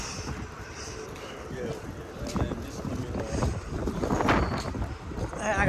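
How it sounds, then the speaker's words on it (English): Wind blusters across the microphone outdoors on a cloudy, cold day, a steady rough rumble that grows stronger toward the end, with a person talking over it. "It's windy."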